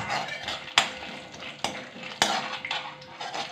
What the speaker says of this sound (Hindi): पहले फिर उसमें शेंगदाना डालेंगे, पहले तो शेंगदाना अच्छे से फ्राई हो जाएगा